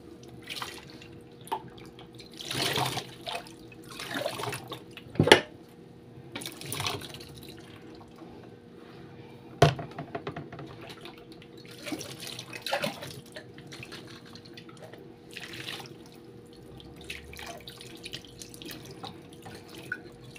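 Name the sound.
tap water rinsing dishes in sink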